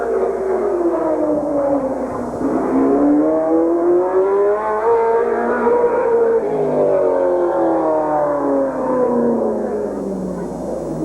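Race car engine on hot laps at Midvale Speedway in 1986, a loud continuous roar with rising and falling pitch as the car circles the track, sustained for the whole stretch with no talk.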